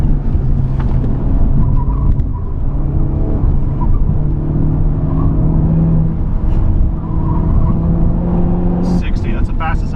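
A Honda Civic Type R pushes fast through a corner at Eagles Canyon Raceway, its engine a loud, continuous droning roar heard from inside the car, with muffled voices beneath it.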